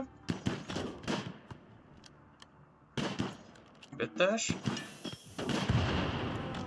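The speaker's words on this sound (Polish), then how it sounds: "jedna z kapsuł wybuchła" An ancient pod bursting in the RimWorld video game, sharp booming blasts and crackling bangs scattered among mechanical clatter, with a voice briefly speaking between them.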